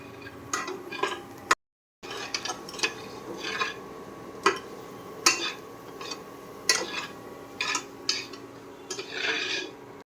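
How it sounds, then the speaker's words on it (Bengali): A spoon stirs chicken masala Maggi in a pan, making scraping and clinking strokes in an irregular rhythm, close and moderately loud, with a brief silent gap early on. "এবার একটুখানি নাড়াচাড়া করে নেব।"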